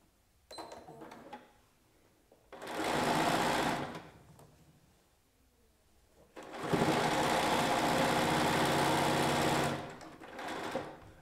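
A sewing machine stitches fabric seams for a quilted cushion in two separate bursts of rapid, even whirring, with quiet handling noises between them.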